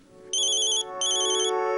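A telephone ringtone sounds in two bright electronic ringing bursts, the second following a short pause, close and clear with no talking.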